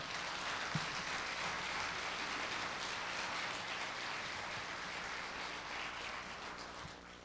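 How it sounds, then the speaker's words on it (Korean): Audience applause for a foundation chairman at a book concert, broad sustained clapping from a large crowd heard at a distance, fairly faint and even throughout. "우리 김성호 재단 이사장을 향해서 다시 한번 박수 한번 쳐주십시오"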